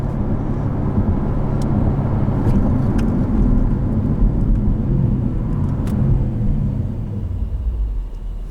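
A 2021 Jaguar F-Type R growls on the move, its engine a deep, continuous rumble heard from the cabin, steady and loud with faint ticks and knocks above it.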